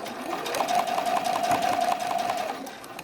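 A sewing machine stitches a bralette cradle along a previous stitching line, a steady close mechanical whirr with rapid needle ticks running for a few seconds and easing off at the end.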